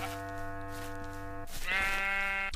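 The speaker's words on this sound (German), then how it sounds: "Mäh machen die Schafe." A Minecraft sheep bleats clearly, one drawn-out, wavering bleat followed by a second higher one, heard alone over quiet game music.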